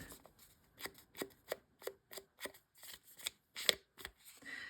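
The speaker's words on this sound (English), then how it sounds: "Snip that off." Scissors snip through paper while a pocket for a vintage office journal is trimmed, giving a quick run of about a dozen crisp, close, quiet cuts in an irregular rhythm.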